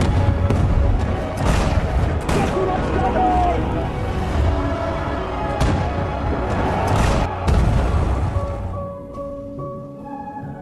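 Cannon fire in a war film battle, repeated heavy booms and blasts over a dense, chaotic rumble of combat noise, loud and close, with some voices mixed in before it thins out at the end.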